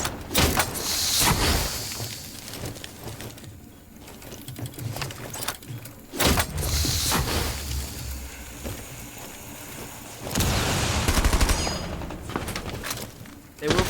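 Gunfire trades back and forth in a competitive video game match, with rapid mechanical bursts of shots in several clusters, interspersed with metallic clanks and quieter stretches of game ambience.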